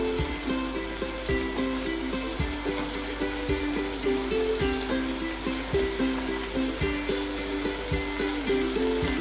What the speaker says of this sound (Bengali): তাই এখন আমরা জাস্ট 2 সাইডে হালকা একটু ভেজে তুলে নিব